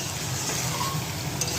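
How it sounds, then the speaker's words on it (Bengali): Pieces of chicken fry in a pan with a steady, close, even sizzle that holds for the whole moment, with no voices over it. "ভাজা হচ্ছে, চিকেন"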